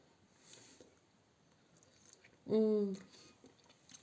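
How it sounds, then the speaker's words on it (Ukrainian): A bite of crunchy marinated mushrooms with garlic, preserved in their own juice, gives one short loud crunch near the microphone amid quiet room sound, with no talk over it. "Зараз візьмемо шматочок грибочка. Вони такі хрумкотливі."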